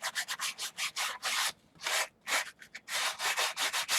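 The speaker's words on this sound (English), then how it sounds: "So I'm going to take a little sanding block here" Rhythmic abrasive strokes of a small hand sanding block rubbing across an aluminum pulley, close and loud, in bursts with brief pauses between passes.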